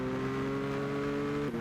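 Red Bull X race car engine in the racing video game Gran Turismo 6, a steady high-pitched drone held at constant revs for over a second before a brief shift near the end, with no talk over it.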